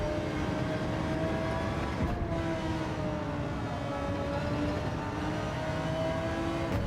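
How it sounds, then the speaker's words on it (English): A race car engine in a racing video game drones steadily at high revs, a continuous buzzing whine with slowly shifting pitch, close and even throughout, with no talking. "There's that engine noise."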